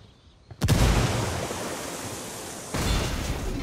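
A frag grenade detonates in the video game Ghost Recon Wildlands: a sudden loud blast breaks a quiet moment and leaves a long rumbling wash, and a second burst follows a couple of seconds later.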